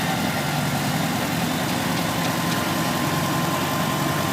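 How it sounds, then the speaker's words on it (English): A 1974 International 666 tractor rolls past in a parade, its steady low engine idle rumbling continuously and fairly close, with no talk over it. "This big beast of a tractor coming up now is an International 666 1974 model"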